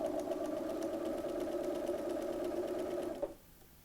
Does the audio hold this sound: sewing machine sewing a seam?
yes